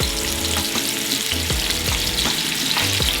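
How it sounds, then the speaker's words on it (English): Thick steaks searing in a hot oiled pan, a loud continuous sizzle and crackle with rhythmic scraping or stirring strokes, close up and with no talking. "listen for a really nice like sizzle as soon as you put it in"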